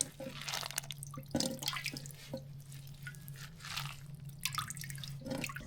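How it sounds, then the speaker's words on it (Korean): Boiled butterbur greens, house-grown, wrung out by hand, sending water trickling and dripping close by into a sink in irregular spatters, with no talking. "자, 물기를 꽉 짜줍니다."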